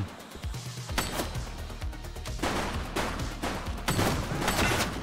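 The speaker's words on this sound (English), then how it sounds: "Shots fired!" Gunfire in the video game The Precinct: repeated volleys of loud, close shots in bursts across the clip, with rapid strings of reports and echoing tails.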